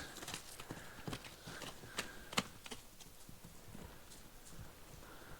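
Horses walk along, their hooves clip-clopping in an uneven, overlapping rhythm with a few sharper strikes, heard fairly faintly and without speech.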